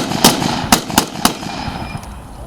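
Rifle and machine gun fire at an outdoor battle reenactment with an M1 Garand, four sharp cracking shots spaced unevenly, loud and fairly close, then fading echo.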